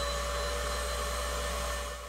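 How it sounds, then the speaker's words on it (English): A household vacuum cleaner fitted with an allergen-sampling collector attachment drones steadily with a loud, even motor whine, then eases off slightly at the end; nobody speaks. "turn the vacuum on."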